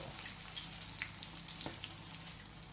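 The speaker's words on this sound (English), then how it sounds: "So they're frying quite nicely." Quiet, steady sizzle of Jamaican saltfish fritters frying in hot oil, with small pops and crackles scattered over a low background hum.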